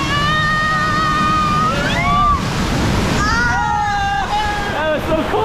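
A wave at the Typhoon Lagoon water park crashes over riders with a loud, continuous rushing wash, and shrieking, rising voices sound over the spray.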